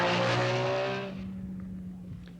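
A Peugeot rally car on the 1978 East African Safari Rally roars past close by with a loud, high-revving engine note that sweeps down in pitch and fades quickly into a quieter distant drone.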